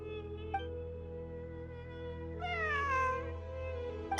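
Cat in the Genshin Impact video game meowing over a steady low ambient drone, one short faint mew followed by a longer, louder drawn-out meow.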